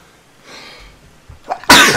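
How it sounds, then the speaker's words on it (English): A single sharp, explosive sneeze bursts out near the end, right after a brief inhaling build-up, loud and close in an otherwise quiet indoor space. "When a YouTuber sneezes on camera and then you catch it in a recording."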